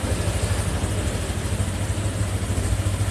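Engine idles close by while its carburettor is adjusted, holding a steady, loud low rumble throughout.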